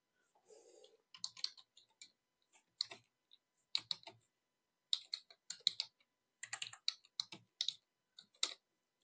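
A computer mouse clicking during work in Microsoft Office 365, heard as faint, close, crisp clicks in irregular clusters with short silent gaps between them.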